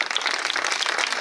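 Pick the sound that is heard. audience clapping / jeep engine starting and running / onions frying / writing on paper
audience clapping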